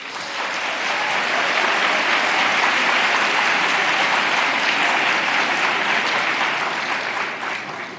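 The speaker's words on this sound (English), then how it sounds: "will you please give your neighbor a round of applause?" A large indoor audience applauds continuously, the dense clapping swelling quickly and holding steady for several seconds before easing slightly at the end.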